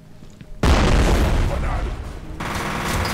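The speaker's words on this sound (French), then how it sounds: "Ouais, sécuriser la zone pendant que j'envoie une grenade." A grenade explodes in the shooter game F.E.A.R. Perseus Mandate, a sudden loud boom that breaks a quiet stretch and then rumbles with crackling, rolling debris and gunfire-like bursts.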